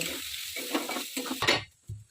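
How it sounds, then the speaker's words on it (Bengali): Egg stirred into frying leftover rice in a pan, with a close crackling sizzle broken by scraping spatula strokes, loud and near, ending in a brief quiet gap. "ডিমটা দিয়ে ভালো করে নেড়ে চেড়ে নেব"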